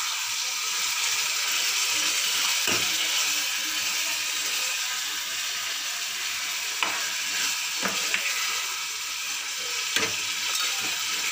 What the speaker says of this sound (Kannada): ಈರುಳ್ಳಿ ಟೊಮೆಟೋ 5 ನಿಮಿಷ ಫ್ರೈ ಆಗಬೇಕು